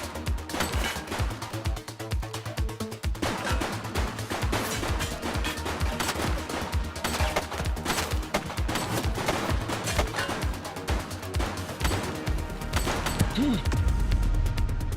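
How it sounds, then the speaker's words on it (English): Rapid gunfire crackles through a shootout in the police game The Precinct: dense bursts of shots and impacts repeat almost without pause, loud and close. "He's shooting!"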